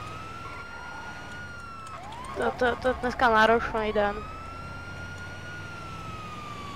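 Police car siren in a roleplay video game, a steady wailing tone running throughout, with someone talking briefly over it in the middle.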